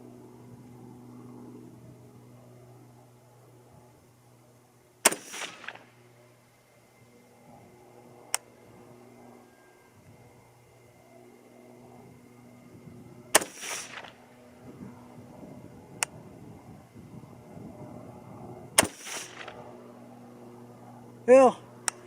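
Three sharp .223 Remington rifle shots with 50 or 55 grain loads, widely spaced and loud against a quiet outdoor background, with a few faint ticks between them and a low voice speaking.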